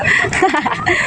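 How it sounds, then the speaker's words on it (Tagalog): A chicken clucks in a quick run of short, nasal calls, close and fairly loud. "Manok."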